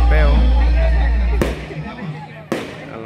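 Firework rockets go off at a rodeo in La Baraja, Nacaome, Honduras: two sharp loud bangs about a second apart, with a whistling rise at the start and crowd noise and talk underneath.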